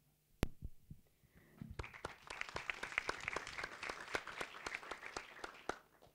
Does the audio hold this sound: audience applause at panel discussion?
yes